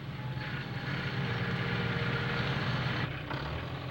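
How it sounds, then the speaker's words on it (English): A powerful tractor with a bulldozer blade approaches up a road in a steady, loud engine rumble that swells and holds, with a brief dip near the end. "he heard a powerful engine coming up the road"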